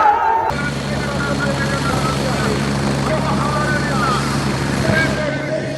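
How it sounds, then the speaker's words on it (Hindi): A helicopter at a Rahul Gandhi rally in Amarpur, Bihar, gives a loud, steady rotor and engine roar close by, with crowd noise and voices under it. "जैसा देख पा रहे हैं हेलीकॉप्टर जी का, यहाँ हेलीकॉप्टर के द्वारा यहाँ पे राहुल गांधी के"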